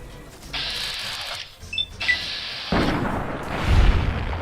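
A game explosion from a modded PC session of Fallout New Vegas in the Hidden Valley area: a broad low rumbling blast swells up and lingers, following bursts of bright electronic tones, with no talk.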